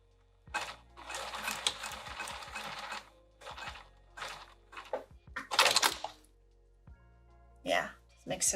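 A sewing machine stitching a bag with piping runs in short bursts of rapid mechanical stitching, loud and close, broken by pauses and clicks, with a voice talking in between.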